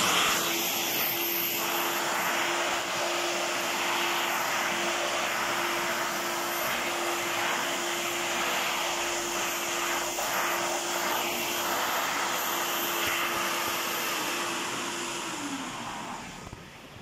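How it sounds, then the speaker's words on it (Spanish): A vacuum cleaner runs steadily on a rug, a loud continuous motor whine with a constant tonal hum and broad airy rush that holds for the whole stretch before easing slightly at the end. "lo más fácil es aspiradora."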